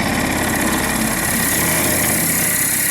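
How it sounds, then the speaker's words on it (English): A wood lathe turns a pen blank while a dedicated drilling chuck bit enters it, a steady loud motor whine with a rough, buzzing chatter, heard close and alone. "Turn on our lathe and introduce the bit to the blank."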